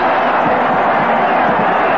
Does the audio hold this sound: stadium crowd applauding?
yes